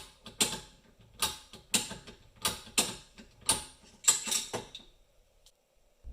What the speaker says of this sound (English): Your go should slide right in here, and the bolt should easily close.